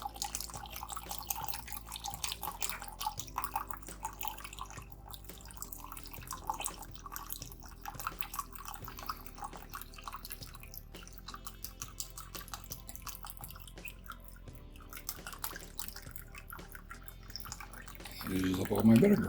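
Two cups of white vinegar poured for watermelon rind pickles, a faint steady trickle of liquid that swells into a louder splash in the final second.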